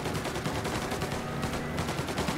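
Steady gunfire in the Mafia video game, aimed at a car's tires, forms a loud, near, continuous burst of overlapping shots with no voices.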